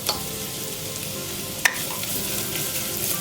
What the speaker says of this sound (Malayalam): ചെറുതായിട്ടൊന്ന് കളർ മാറി തുടങ്ങുമ്പോൾ നമുക്കതിലേക്ക് 1/4 കപ്പ് സവാള അരിഞ്ഞത് ചേർത്ത് കൊടുക്കാം